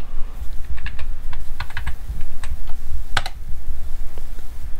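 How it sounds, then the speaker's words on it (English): Quick, uneven keystrokes as a password is typed on a Mac keyboard, close and crisp clicks in short bursts with a louder tap near the end, over a low steady hum. "type in our password"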